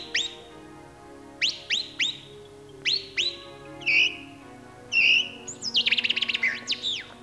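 A man whistles an imitation of a chaffinch call: a series of short, sharp rising chirps in quick groups, then a fast trilling run near the end. The whistling is close and clear, with no talk.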